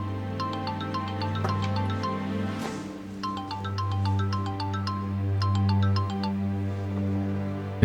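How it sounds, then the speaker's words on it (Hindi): A phone ringing with a repeating electronic melodic ringtone, bursts of bright chiming notes separated by a short pause, loud and close over a low steady hum. "फोन बज रहा है।"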